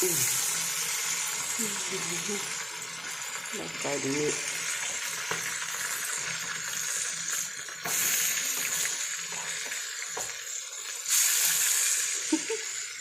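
Karimeen (pearl spot fish) fries in a pan, making a faint, steady sizzle with occasional clinks and soft stirring sounds.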